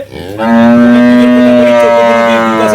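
A dairy cow lets out one loud, sustained moo close by, holding steady for over two seconds with a rich, droning tone.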